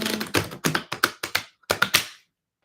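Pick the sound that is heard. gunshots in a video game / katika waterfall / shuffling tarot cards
shuffling tarot cards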